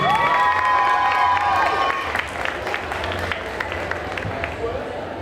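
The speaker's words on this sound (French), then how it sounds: "Applaudissements, s'il vous plaît." An audience at a Japan Party 2023 cosplay contest applauds and cheers for a duo on stage, a steady wash of clapping and shouts with a few whoops. A bright electronic tone sounds early, then the crowd noise thins out.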